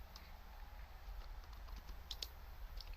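Faint, sparse clicking of keys on a computer keyboard, a few soft taps over a steady low hum, distant and quiet.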